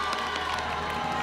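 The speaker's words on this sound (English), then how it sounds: "we should all give her a round of applause" Audience at the Miss South Africa 2024 pageant cheering and applauding for the outgoing titleholder, a steady wash of crowd noise with shouts, fairly distant and continuous.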